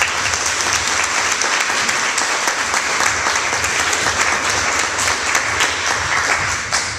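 An audience at a graduation promotion ceremony bursts into sustained applause, dense clapping that is loud and steady for several seconds.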